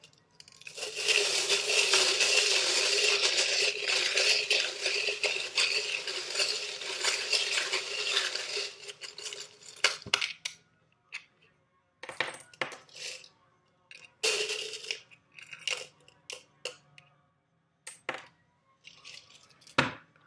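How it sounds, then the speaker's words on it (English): Metal tarot charms pulled from a container and rattled, a dense continuous jingling clatter for about nine seconds, then scattered short clinks and rattles with gaps of quiet between them. "I'm going to pull out some charms. It does get a little bit loud."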